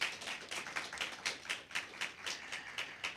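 A school debate audience at an inter-secondary competition applauds after a presentation, a faint, distant run of clapping with a loose pulsing rhythm, quiet throughout and with no voices over it.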